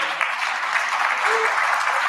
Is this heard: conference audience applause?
yes